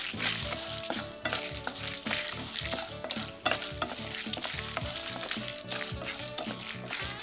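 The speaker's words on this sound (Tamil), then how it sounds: "இந்த ஃப்ளாக்ஸீடை சேர்த்துக்கிறேன். அது நல்லா வெடிச்சாதாங்க நல்லா ருசியாக இருக்கும் ஃப்ளாக்ஸீடு." Urad dal and flaxseed fry and sizzle in a pan while being stirred, with constant crackling and popping and rhythmic scraping strokes of a spoon against the pan.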